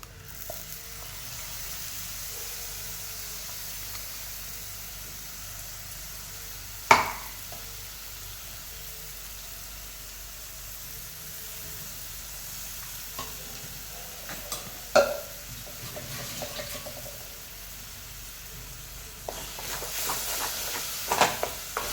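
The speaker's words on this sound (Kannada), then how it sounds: "ಟೊಮೊಟೊ ಚೆನ್ನಾಗಿ ಫ್ರೈ ಆಗಬೇಕು. ಫ್ರೈ ಆಗ್ತಾ ಆಗ್ತಾ ಇದರಲ್ಲಿರೋ ಎಣ್ಣೆ ಬಿಡಬೇಕು" Tomato masala fries in a pan for paneer curry, a soft continuous sizzle with occasional sharp scraping stirs of a spoon, fairly quiet and close, with no talking.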